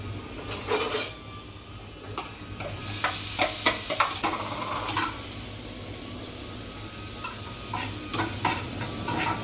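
Chopped onion sizzling in hot oil in a pan as momo vegetable filling is prepared, with steady frying hiss and repeated scraping stirs and spatula clinks close by, no talking.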